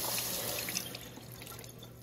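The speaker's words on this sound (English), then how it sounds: "I'll show you how our water pressure is. This is the cold water." Cold water runs from a household tap in a city home, a steady faint hiss and trickle with small drips, heard alone for about two seconds.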